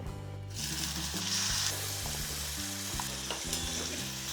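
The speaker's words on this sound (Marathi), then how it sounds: "सुरण तेलामध्ये परतून घेऊयात" Chopped yam sizzles in hot oil with a steady, close frying hiss. Light scraping and stirring noises sit above a faint low musical hum, and no voice is heard.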